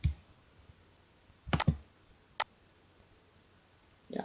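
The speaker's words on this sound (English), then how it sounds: "So I'm gonna now type in" Sparse keystrokes on a computer keyboard: a quick cluster of three clicks, then a single tap after a pause, close and crisp against near silence.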